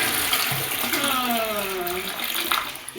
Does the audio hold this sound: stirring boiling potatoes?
no